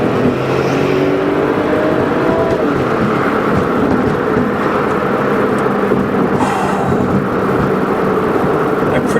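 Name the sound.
Porsche 911 (996) Turbo Coupe engine accelerating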